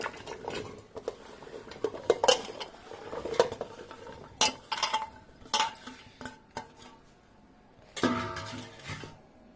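Raw mango pieces for Andhra avakaya pickle are tipped into a bowl, giving a string of clattering knocks and scrapes of pieces and a utensil against the vessel, close and uneven, with short pauses between bursts.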